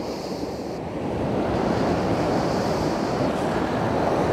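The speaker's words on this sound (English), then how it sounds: "Tide is coming in rapido." Sea waves roll in with the rising tide on the beach at Happisburgh, a constant loud wash of surf with wind noise buffeting the microphone and no distinct individual breakers.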